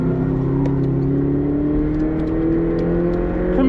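A Subaru BRZ engine on a track screams near red line under steady throttle, a loud continuous rev with rising harmonic tones and a sharp climb at the very end.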